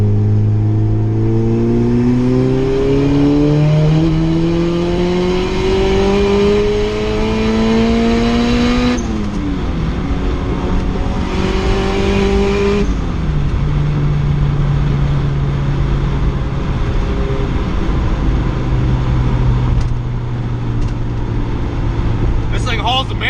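Turbocharged Honda CR-V with a built cylinder head pulling hard through third gear, its loud engine note climbing steadily in pitch, then dropping sharply at each shift before rising again, heard close and continuously.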